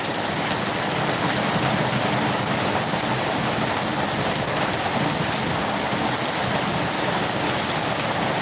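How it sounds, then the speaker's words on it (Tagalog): Heavy rain with very large drops pours down on a farm in a steady, dense hiss that never lets up, loud and close, with no voices. "Ang lakas ng ulan, ka-farmers."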